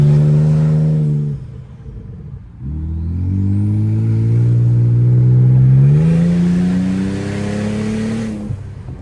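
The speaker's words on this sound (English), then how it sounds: "No exhaust, so you can hear the turbo." A 2013 Ford Taurus SHO fitted with a Ford Flex EcoBoost turbo engine and no exhaust, revving and accelerating with a loud rising engine drone and audible turbo whine, easing off briefly, then pulling up again.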